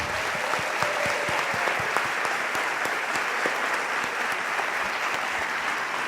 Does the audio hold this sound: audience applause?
yes